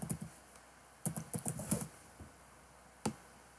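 A Wi-Fi password is typed on a computer keyboard in quick, light clicking taps, a short burst of keystrokes followed by a pause and a single final press, close and clear with no talking.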